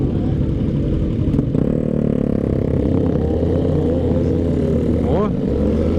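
Big four-cylinder motorcycles rev loudly at a motorcycle show in Botucatu, a dense, steady engine roar filling the whole stretch with one rising rev partway through, while a voice talks over it.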